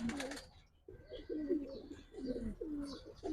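A Giribaz pigeon in a loft coos in repeated soft, throaty phrases, close and fairly quiet, with a short rustle at the start.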